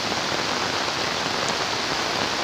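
Heavy rain pours down beside fast-flowing floodwater in eastern Cirebon, a dense, steady hiss of drops at close range with no voices.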